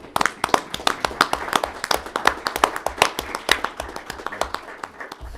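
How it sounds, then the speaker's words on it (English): A crowd at a county commission meeting claps in recognition of a community crew: a sustained round of sharp, fairly close hand claps spread across several seconds, with a few louder individual claps standing out. "if we could recognize the work that they do in the community with a round of applause"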